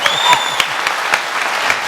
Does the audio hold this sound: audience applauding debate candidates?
yes